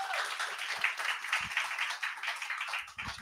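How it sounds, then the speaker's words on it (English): An audience at a business event gives a brief round of applause, a dense, even patter of many hands clapping at moderate distance, fading slightly near the end. "Round of applause, please."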